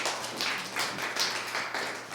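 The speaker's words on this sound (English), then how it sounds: "Round of applause for Dixie." Steady audience applause at a body language show, a dense wash of many hands clapping at close range without a break.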